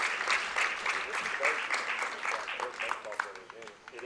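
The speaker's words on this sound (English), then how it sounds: "One more big round of applause for our veterans and first responders" A crowd applauds veterans and first responders at a baseball game ceremony, with lively clapping, cheers and scattered shouts that rise and fall, mixed with voices.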